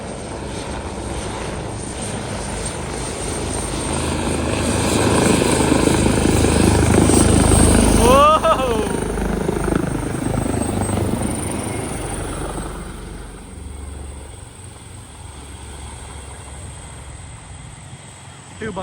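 A helicopter flies low overhead at a Royal Malaysian Air Force open day in Kuantan, its rotor and engine roar swelling to a loud peak as it passes close, then fading away, with spectators talking throughout.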